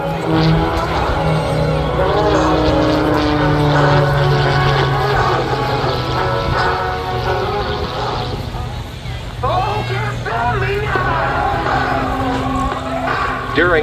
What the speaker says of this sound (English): In a series of high alpha rolls down the line, this MXS, a custom-built, all-carbon fiber, American-made masterpiece.